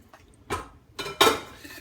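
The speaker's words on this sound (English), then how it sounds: "we're going to stir that into the gravy" Marsala chicken being stirred into gravy in a pan, with a few short scraping clinks of utensil against cookware, moderately close and separated by brief pauses.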